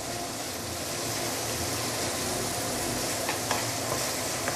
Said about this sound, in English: This step is that you really want to cook the pork fat out